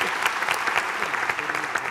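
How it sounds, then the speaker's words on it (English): An audience claps in a short, lively burst of applause, sharp individual claps over a steady wash, with a voice faintly present beneath. "ladies and gentlemen, give her a round of applause"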